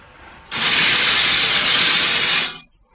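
A GI wire net making machine producing 12-gauge galvanized mesh with a 3-inch gap at 5 feet high gives a loud, steady mechanical hiss and rattle as it runs and cuts wire, starting abruptly and stopping after about two seconds.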